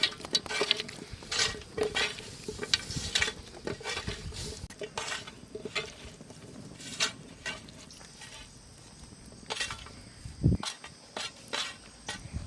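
Mutton tikka marinade with salt is mixed in a dish, giving close, irregular clinks and scrapes of spoon against the container with soft squelching between strokes.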